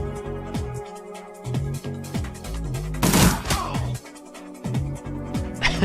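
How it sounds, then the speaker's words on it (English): Rapid bursts of gunfire crackle through a dense, busy soundscape in the video game Shadowrun, with one especially loud volley in the middle and scattered shots around it. "hearing all those gunshots"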